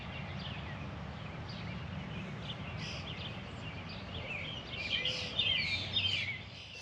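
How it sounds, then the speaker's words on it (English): Birds chirp and sing faintly at a distance over a steady rush of a small stream on the Flint Hills Trail in Kansas, the calls growing a little busier toward the end. "Listen to the birds."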